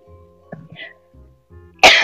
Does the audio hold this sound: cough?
yes